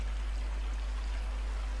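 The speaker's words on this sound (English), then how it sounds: "so that's like letting water out now" Water draining and pouring after a valve is turned in the Silent Hill 4 video game, a soft steady rush of flowing water held at a low, even level throughout, with no talk over it.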